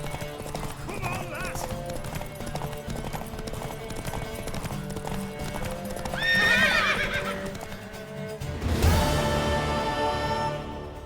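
Rhythmic hoofbeats of a galloping horse with a neigh partway through, set against continuous game music and effects; louder burst near the end.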